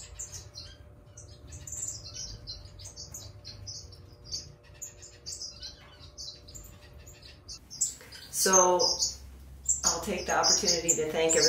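Aviary birds chirp and tweet in repeated short bursts over a low background hum, building toward the end into louder, denser squawks and calls close by.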